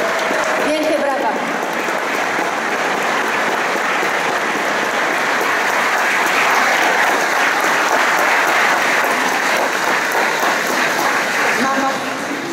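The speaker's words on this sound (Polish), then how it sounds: "Wielkie brawa." Sustained applause from an audience at a Donald Tusk meeting with supporters in Płock, dense steady clapping that carries evenly throughout and thins out near the end.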